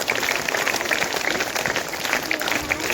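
Audience applause at a school Christmas celebration, a steady dense patter of many hands clapping together throughout, fairly loud and close, with no talk over it.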